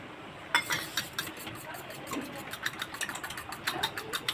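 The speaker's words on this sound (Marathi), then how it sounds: "असं ह्या पद्धतीने फेटून घ्यायचं आहे" Fork whisking egg and milk in a bowl: a quick run of light, regular clinking taps against the bowl, fairly close and soft, with no talking.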